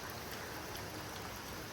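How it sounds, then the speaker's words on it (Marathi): Steady rain patters without pause, a dense even hiss of drops hitting a surface, fairly soft and close, with no voices. "पाऊस बघा"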